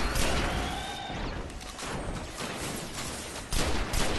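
Dense gunfire from a first-person shooter, Destiny, with bursts of shots, crashes and whooshing impacts rolling continuously and loudly, swelling again near the end.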